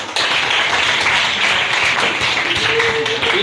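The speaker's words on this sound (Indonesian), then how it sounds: "Kasih aplaus juga" A class applauds: dense, steady clapping from many hands goes on throughout, fairly loud and close, with a faint voice in the background.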